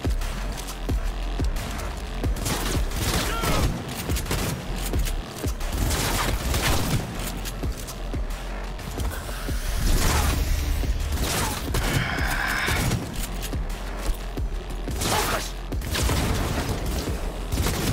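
Rapid gunfire bursts and impacts from the video game Cyberpunk 2077 come through as dense, loud, repeated shots and booms layered over game sound effects throughout.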